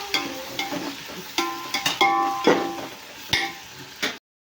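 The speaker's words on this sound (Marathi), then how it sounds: "परत याला हलवून घेऊया व्यवस्थित" A spoon stirs biryani masala into a cooking pot with mutton tahari, giving a string of metallic clinks and scrapes against the pot over a soft sizzle. The stirring is close and uneven in rhythm, with no talk.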